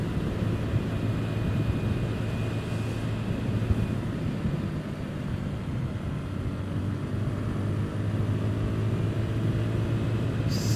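A Honda Navi motorcycle rides along a gravel road, giving a steady low engine drone with constant rumbling road and wind noise throughout, even and unbroken at moderate level.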